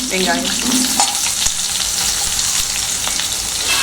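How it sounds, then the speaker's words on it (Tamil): Onions sautéing in a pan for carrot rice, a constant dense sizzle with intermittent scraping of a spoon, close and unbroken, no talking. "வெங்காயம் வந்து நல்லா நம்ம வதக்கணும்."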